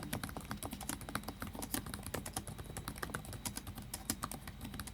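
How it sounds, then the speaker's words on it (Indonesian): Fingers type steadily on a clicky laptop keyboard, a rapid stream of close, crisp keystrokes with an even rhythm and no voices. "keyboard yang clicky, enak dipakai ngetik, gak terlalu empuk"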